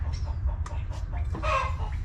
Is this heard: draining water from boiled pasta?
no